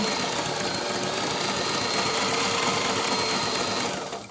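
A sewing machine runs continuously at a steady fast pace, stitching fabric for throw pillows aboard a sailboat, its rapid mechanical clatter close and loud until it slows to a stop at the end.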